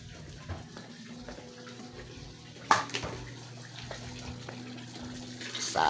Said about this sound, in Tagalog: Puno na yata yung tubig sa CR.